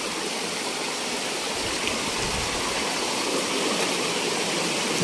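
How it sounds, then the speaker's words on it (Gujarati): Water rushes continuously at Khuniya Mahadev waterfall in the Pavagadh forest, a loud, steady roar of falling and flowing water with no voices over it. "પાણી કેટલું સુંદર વહી રહ્યું છે"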